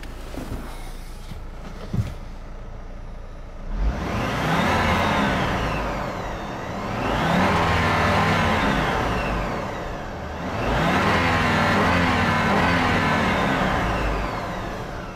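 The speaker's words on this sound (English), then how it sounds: "rev the engine" A 2007 Hummer H3 engine revs up three times in a row, heard from inside the car, each swell rising and falling, fairly loud and close.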